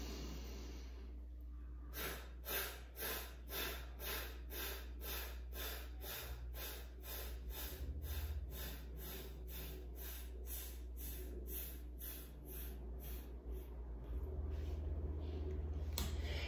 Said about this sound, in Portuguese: Na mesma respiração, vários Fs, som de F, até acabar